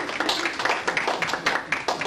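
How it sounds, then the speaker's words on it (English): Thin audience applause for a volunteer at a magic show, a small number of hands clapping in irregular bursts, fairly close and moderate in level. "Give this girl a nice round of applause."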